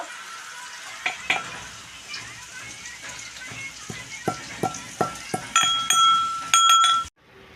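Pumpkin pieces frying in hot oil with a steady sizzle, as a spatula scrapes and clinks against the pan in irregular strokes, loud and close, ending abruptly.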